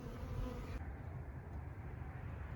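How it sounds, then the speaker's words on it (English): Honeybees buzz around an opened Layens hive in a bee yard, a continuous low droning hum of many insects, steady and close throughout. "So we've got bees going everywhere."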